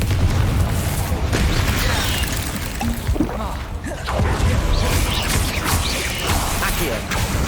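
Confringo fire spells land during a Hogwarts Legacy fight, a dense run of crashing, rumbling impacts and bursts that keep going for several seconds, with game sounds layered over a heavy low roar.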